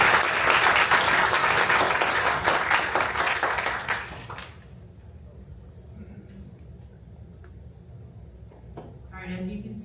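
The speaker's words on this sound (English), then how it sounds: "So let's give Tall a round of applause." An audience applauds after a startup pitch at a Las Vegas startup event, with loud, dense clapping for about four seconds that stops abruptly, leaving quiet room noise and a brief rustle near the end.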